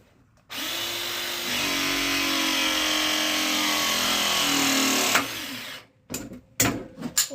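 A hydraulic press tool runs a steady motorized whine for about five seconds while crimping a copper pipe fitting, then stops with a click, followed by a few brief handling knocks nearby.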